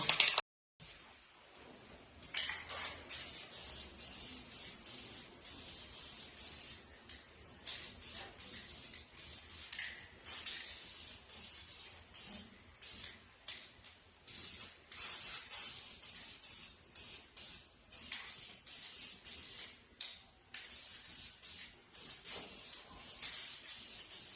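High-temperature header sealer, rated to 2,000 degrees Fahrenheit, hisses from an aerosol can onto the exhaust headers of a 1971 Chevrolet C10 truck in a series of short, quiet spray bursts with brief pauses between them.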